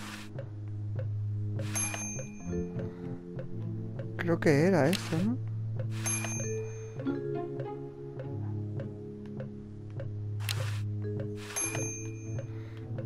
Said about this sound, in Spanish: Empujar el timbre.